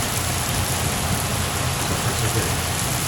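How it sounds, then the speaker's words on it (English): Steady rain drums loudly on a boat cover during a thunderstorm, a dense, continuous patter close by with no pauses. "rain is coming down pretty good"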